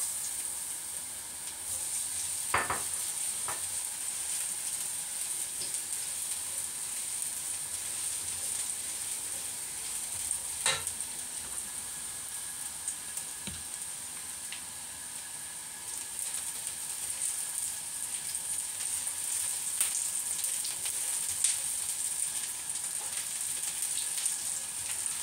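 Garlic fries in a pan for steamed tofu with minced pork: a soft, steady sizzle with a few sharp pops and clinks, fairly quiet and continuous.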